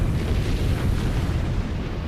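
An atomic bomb test explosion produces a deep, continuous rumbling roar, dense and loud throughout a short stretch, with no voices.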